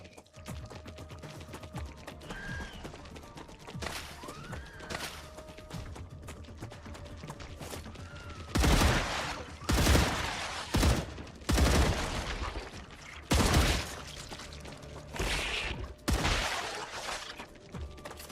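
Gunfire in the StarRupture video game: bursts of rapid shots and loud volleys crack out repeatedly over a low ambient game drone, with quieter stretches between the heavier bursts.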